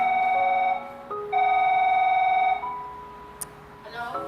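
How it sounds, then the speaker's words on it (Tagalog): Telephone ringing inside a reality-show house, two clear electronic rings in close succession, fairly loud, followed by a faint background murmur. "matapos marinig ang ring ng telepono"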